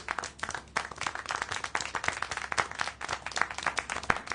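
Video game applause: a small crowd claps steadily, irregular hand claps pattering close by for several seconds with no break.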